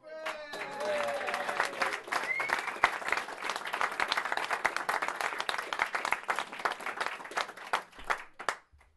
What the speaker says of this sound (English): Massive round of applause here because without her it wouldn't have been possible.